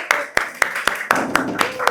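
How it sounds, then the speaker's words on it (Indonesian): A classroom group clapping in a steady rhythm, about four sharp, loud claps per second, in a school setting. "Tepuk tangannya mana?"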